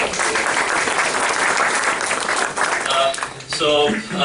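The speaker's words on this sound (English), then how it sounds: "So I think let's give a round of applause." An audience at a business networking session applauds a speaker, dense clapping filling most of the moment before voices begin talking as it fades toward the end.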